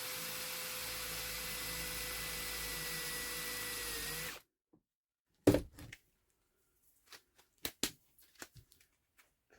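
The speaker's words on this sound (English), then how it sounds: "Drill your hole." A power drill whirs steadily for about four seconds, then stops abruptly, followed by a few clanks and soft handling noises.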